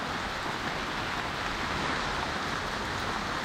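Rain falls outside on a cold morning, a dense, even hiss that holds steady and fairly close throughout, with no voices over it.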